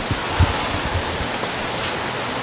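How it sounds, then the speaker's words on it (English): Steady rain falls outdoors at a small city festival, a soft even hiss of droplets throughout with a couple of faint low thumps and no voices. "it's raining."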